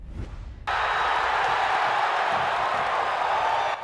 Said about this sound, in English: The sound of another Hoosier victory in front of a sellout crowd.